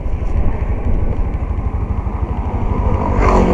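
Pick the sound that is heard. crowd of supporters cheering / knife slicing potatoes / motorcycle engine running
motorcycle engine running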